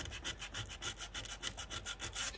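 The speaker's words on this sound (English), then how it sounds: "I'm just sanding ever so slightly, trying to break the glaze" Rhythmic back-and-forth rubbing of 80 grit emery cloth across a glazed, shiny surface, steady strokes about five per second, close and fairly quiet, with no voices.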